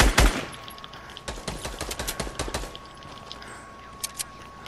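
Rapid video game gunfire rattles off in a loud burst of sharp shots, followed by scattered fainter shots and clicks as the firing dies away.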